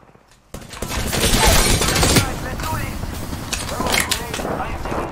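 Gunfire in the Apex Legends game during a Bloodhound event match: a burst of dense, loud shots starting abruptly, then continuing as rattling fire with further spikes, mixed with game noise and a voice speaking over it.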